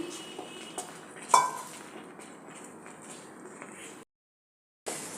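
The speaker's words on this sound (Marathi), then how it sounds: "हे बघा हे रवीने असं व्यवस्थित आपल्याला मिक्स करून घ्यायचं आहे" A wooden churner (ravi) mixes besan batter in a pot, with soft scraping and stirring clatter, one sharp clink against the vessel, and a short silence before the stirring resumes.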